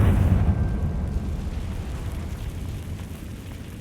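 A Confringo fire-blast spell explodes in the video game Hogwarts Legacy, a loud, heavy boom that hits at once, rumbles low and then fades slowly over several seconds, with no voices.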